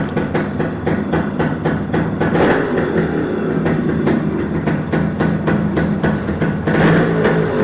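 Restored Yamaha RX100 two-stroke motorcycle running close by, a loud, steady engine and exhaust note with repeated rhythmic pulses and small swells in revs throughout, no talking.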